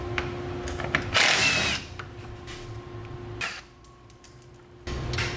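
Power tool with a 10 mm socket spinning out plastic trim fasteners during a bumper swap on a 2009-2018 RAM 1500, several short whirring bursts with clicks and pauses between them in a quiet garage.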